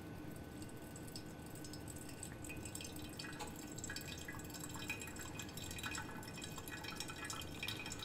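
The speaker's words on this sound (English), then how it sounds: "I'm just wetting the paper to rinse it and also heat up the V60 and the jug before doing a brew." Water is poured over a paper filter in a V60 coffee dripper to rinse it and warm the dripper and jug, giving a quiet, steady trickling and dripping that runs throughout with no talking.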